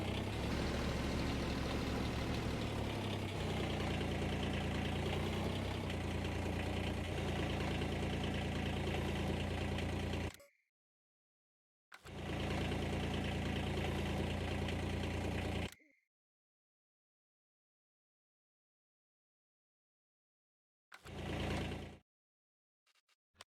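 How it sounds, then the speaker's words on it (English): A lawn mower engine idles steadily and fairly loud, running for about ten seconds, cutting out, restarting briefly, then stopping again before a last short burst; no one talks over it. "That mower."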